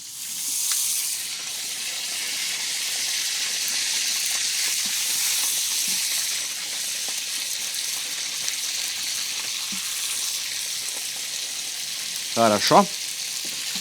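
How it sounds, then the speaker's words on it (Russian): Chickpea kofte (kefteler) frying in hot oil in a kazan, a steady bright sizzle and hiss throughout, close, with a brief clatter near the end and a short spoken word. "не бросайте в кипящее масло ваш кефтелер"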